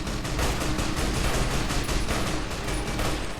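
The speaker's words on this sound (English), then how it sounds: "I'm going to start by taking a few manual shots" Steady gunfire in Fallout New Vegas during the battle of Hoover Dam, a dense, loud volley of repeated shots continuing without pause.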